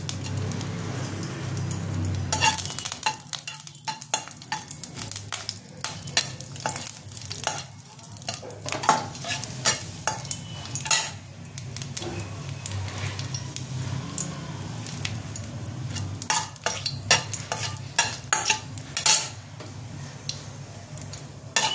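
Dried red chillies and bay leaves fry in a small amount of oil for a Bengali moong dal, giving a steady sizzling crackle dotted with sharp spattering pops, close and continuous, with no voices.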